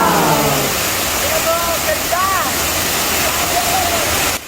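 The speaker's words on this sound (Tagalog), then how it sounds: "Ay grabe itong falls na ito guys, napakasolid talaga kung dito ka maliligo sa Montañez Falls na ito." Montañes Falls waterfall, a loud steady roar of falling water filling the whole scene, with a voice speaking faintly over the constant rush.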